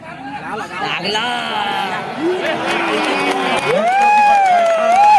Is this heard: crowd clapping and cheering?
yes